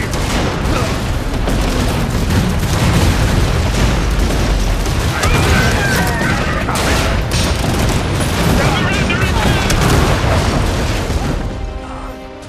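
Artillery shells and gunfire in the World War I–era mech strategy game Iron Harvest: loud, dense booms and crackling bursts pound almost continuously, with a shouted voice briefly heard over the din before it eases near the end.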